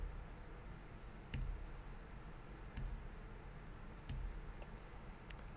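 Backslash key on a computer keyboard tapped during photo editing, giving a few separate crisp clicks spaced over several seconds, close-miked against a faint steady background hiss.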